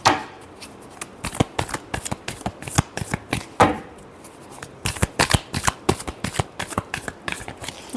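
A deck of tarot cards is shuffled by hand in repeated crisp riffles and snaps, close and loud, with brief pauses between bursts.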